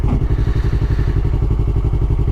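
A motorcycle engine thrums loud and close while the bike is being ridden, a steady rapid pulsing rumble with no speech.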